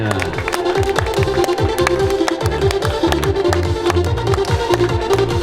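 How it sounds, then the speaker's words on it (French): Audience at a triathlon award ceremony in the Jura claps steadily, a dense and continuous round of applause from a crowd throughout, with a voice faintly underneath. "On l'applaudit bien fort"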